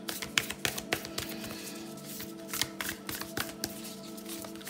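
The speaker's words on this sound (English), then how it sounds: "Let's pull more cards and let's go." Tarot cards being shuffled and pulled by hand, a soft close run of rapid riffling flicks and light taps, uneven in rhythm, with no talking.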